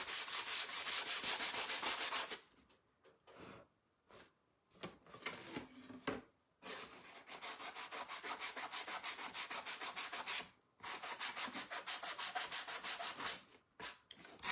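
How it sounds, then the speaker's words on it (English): Handheld sanding of a wooden shiplap sign, a steady close rasping rub in long continuous strokes broken by a few short pauses and quick passes, with no voices. "it's not sanding the way I want it to"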